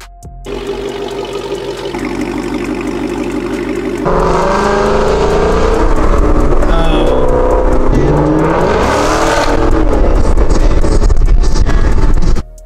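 A Ford Mustang's engine runs and the car drives off, a steady idle rumble building to a louder, fuller roar as it accelerates, with rising and falling engine pitch close to the listener and no talking.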